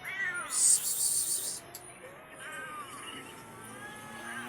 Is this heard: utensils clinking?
no